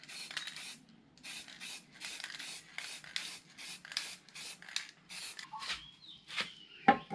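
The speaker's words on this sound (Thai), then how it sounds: "สำหรับสีรองพื้นนะครับผมใช้เป็นสีสเปรย์นะ" Short bursts of a spray can misting a thin coat of primer onto a small car bumper panel during a DIY front bumper paint repair, repeated hisses in a steady rhythm, close and moderately loud with no talking.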